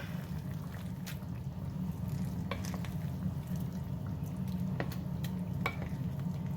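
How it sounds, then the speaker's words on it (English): Chicken coconut curry is stirred in a pot, a quiet, steady simmer and sizzle with soft scraping and occasional light clinks of a utensil against the pot, no voices. "open it up and give everything a stir"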